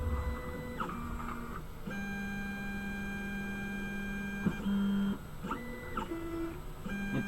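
A 3D printer runs its stepper motors nearby, giving steady whining tones that jump in pitch between moves, with brief pauses and a short louder burst, and no one talking.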